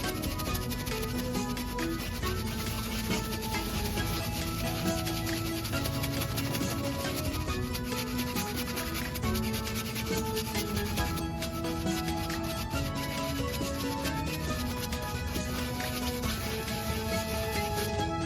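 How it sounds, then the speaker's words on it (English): A brush scrubs soapy suds across a Tesla Model Y air mattress, making a continuous close rubbing and swishing texture that stays steady throughout with no talking. "Put a little bit there, like so, and just scrub it with the brush. Suds it up."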